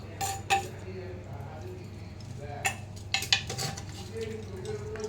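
A metal ladle scrapes and clinks inside a pot of simmering handi-style chicken curry with tender cooked meat and gravy, giving a few sharp knocks against the pot over a low steady hum.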